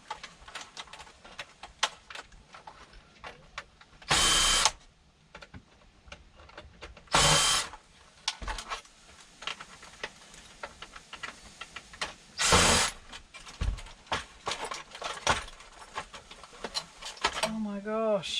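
A power drill backs screws out of a scrap item in three loud, short whirring bursts, set among clattering handling noises and someone talking.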